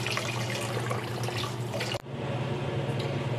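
Tap water runs loudly and steadily into a sink to rinse boiled noodles with cold water, then cuts off briefly before flowing on.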